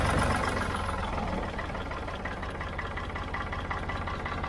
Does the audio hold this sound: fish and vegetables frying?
no